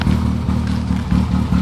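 2005 Subaru Impreza WRX with a 3-inch exhaust idling and blipping, a loud, close, pulsing engine note with rhythmic throbbing rises, no talk.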